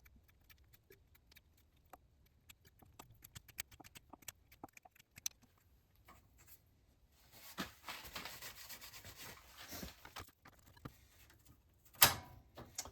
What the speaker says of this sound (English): I have this tap that I have applied a little cutting oil to, and we are just going to start the tapping process